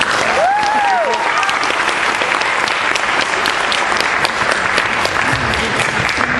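A high school audience applauds to welcome storm chaser Tim Samaras. The clapping is loud and continuous, filling the whole moment, with a brief voice near the start.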